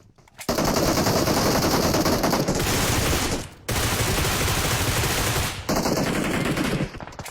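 Sustained automatic gunfire from the PUBG Mobile battle royale game, loud, dense rapid bursts with two short pauses, and no talking over it.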